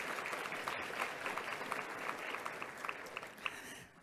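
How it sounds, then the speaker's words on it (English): An audience at the 2017 Policy Summit of the Federal Reserve Bank of Cleveland applauds the conference organizers. The clapping is steady and dense, fairly distant and of moderate loudness, and it carries on for the full few seconds. "So please join me in giving them a round of applause."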